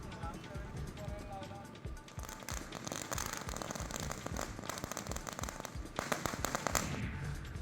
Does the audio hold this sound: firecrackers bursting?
yes